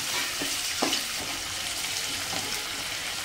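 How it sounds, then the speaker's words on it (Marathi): Chopped onion sautéing in a pan for Khandeshi-style baingan bharta, a steady close sizzle with a few scraping stirs early on, no voices. "तर आता हा कांदा आपण छान असा परतून घेऊया"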